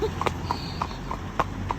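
A 24-year-old horse out hacking clip-clops along in a steady, evenly spaced rhythm of close, crisp hoof beats, with a faint voice now and then.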